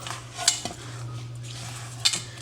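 A utensil works a meatball mixture with breadcrumbs in a bowl, giving a few scattered scrapes and knocks against the bowl over a low steady hum.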